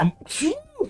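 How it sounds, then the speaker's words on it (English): One quick sneeze bursts out close by, sharp and brief. "I gotta sneeze."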